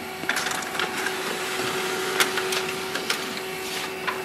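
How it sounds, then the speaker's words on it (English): An HP LaserJet M208dw laser printer printing a page, a steady mechanical hum with faint clicks and rustles, heard alone without talk. "wait for the printer to print another page"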